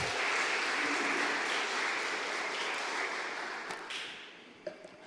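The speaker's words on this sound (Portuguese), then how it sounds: "comece a aplaudir ao Senhor bem alto" A church congregation applauds loudly in a sustained wash of clapping that slowly thins and fades, ending with a few scattered claps.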